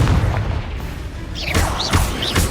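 A Confringo fire spell from the Hogwarts Legacy video game bursts in repeated booming blasts. Several deep explosive thumps land close together and loud, with no talk over them.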